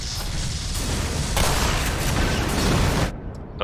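Explosions in the Black Mesa video game, a loud continuous roar of blasts and rumbling bursts that swells midway and then drops away abruptly near the end.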